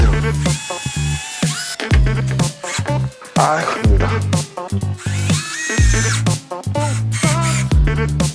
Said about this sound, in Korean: 이게 토크를 너무 세게 하면 완전 저 나무판이 다 야마먹을 수 있어서 토크 약하게